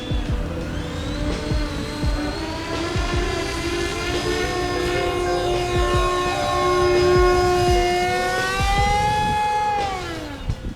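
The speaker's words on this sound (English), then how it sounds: "For being a 3-blade propeller, it makes a ton of noise." A loud, buzzing three-blade propeller motor on an E-flite Icon A5 RC flying boat drones continuously at high revs during takeoff, its pitch holding steady before dipping near the end.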